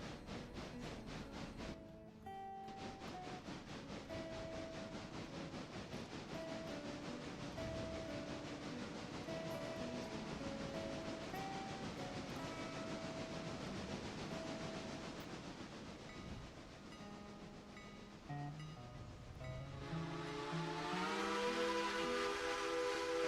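Locomotive in the Railroader video game, with a steady engine rumble and tonal whistle-like tones that shift in pitch. The sound grows louder and brighter near the end, with no voices.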